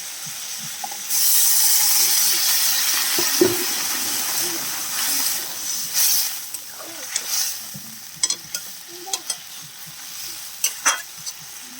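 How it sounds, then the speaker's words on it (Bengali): Water poured into a hot wok while cooking hilsa fish with eggplant bursts into a loud, sustained sizzling hiss of steam, then settles into softer bubbling and stirring clatter. "কড়াইয়ের মধ্যে জল দিয়ে দিয়েছি বন্ধুরা"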